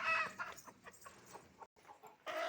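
Hen clucking close by in a series of short, broken calls while a broody hen is lifted off eggs, with a brief silent gap before a louder final cluck.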